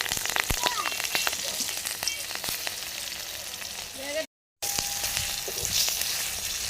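Green chilli goes into a pan of frying fish for a curry with taro stolons, giving a loud, continuous sizzle and crackle with stirring scrapes and one short break.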